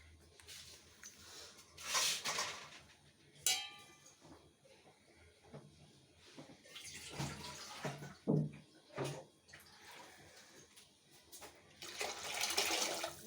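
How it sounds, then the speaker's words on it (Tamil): Water is poured into a pot of horse gram rasam during cooking, arriving in several separate splashing bursts with quiet pauses between them, fairly soft and close by. "ரசத்துக்கு தேவையான அளவு தண்ணி சேர்த்துடலாம்"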